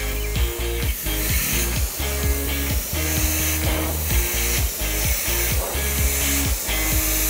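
Airbrush spraying paint lines in short repeated bursts, a hissing spray that starts and stops in a regular rhythm alongside a low motor-like drone, close and without talk.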